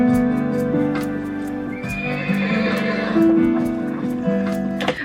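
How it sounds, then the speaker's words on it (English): A horse whinnies loudly and at length, with hooves clip-clopping and a steady musical background beneath. "they can add all the sound effects they want to show a horse is in distress"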